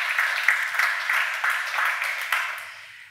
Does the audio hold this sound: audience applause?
yes